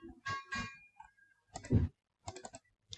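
A computer mouse clicks several times in quick, separated pairs and singles while building an ASP.NET MVC email application, close and crisp with quiet gaps between and no talking.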